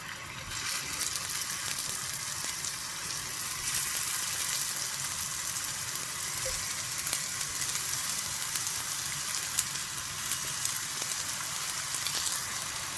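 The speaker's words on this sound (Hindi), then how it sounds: "अब हम इसको अच्छी तरह कबाबों को फ्राई कर लेंगे।" Round galawat kebabs frying in oil in a pan, a steady close sizzle and crackle that runs unbroken throughout, with scattered small pops and no talk.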